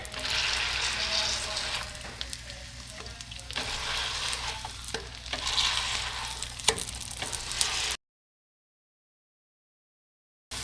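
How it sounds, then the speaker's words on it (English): A smashed hash brown patty frying in melted butter on a hot surface gives a loud, close sizzle with scraping spatula strokes, then cuts to silence for a few seconds. "We're gonna smash it down so it gets nice and crispy"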